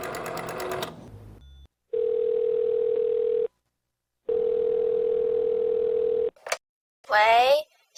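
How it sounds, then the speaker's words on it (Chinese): A telephone call to a timber-processing factory's switchboard produces a steady, loud tone in two long unbroken stretches separated by silence, with a voice speaking briefly before and after. "过顿工，伊照迄个号码敲电话去。"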